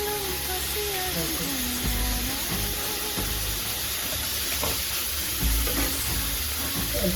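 Ground tomato paste sautéing in a pan, with a steady loud sizzle and frying crackle throughout and occasional stirring scrapes, no talking.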